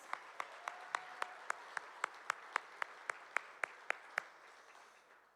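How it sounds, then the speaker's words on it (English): Slow, evenly spaced claps, about fifteen sharp strikes over roughly four seconds, from a few hands at an awards event, standing out clearly above a soft room murmur before trailing off. "Can we give them a round of applause?"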